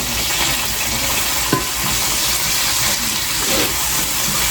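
A sauce of butter, olive oil, garlic, anchovies and tomato paste cooks in a pan, giving a loud, steady, dense sizzle with a single faint clink of stirring partway through and no voices.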